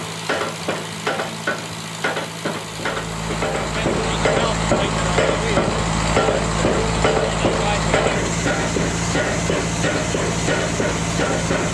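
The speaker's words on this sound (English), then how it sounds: "This is a stamp mill used to crush rock and ore at a gold mine in Rawdon." A heavy stamp mill at a gold mine in Rawdon pounds rock and ore, a dense, continuous mechanical clatter with rapid repeated thuds and a steady low hum, loud and close throughout.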